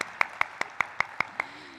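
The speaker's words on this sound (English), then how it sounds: "Let's give once again a thunderous round of applause for him." Seven sharp, evenly spaced claps ring out at an IPO listing ceremony, steady and fairly loud, each one crisp and separate rather than a dense roar of a crowd.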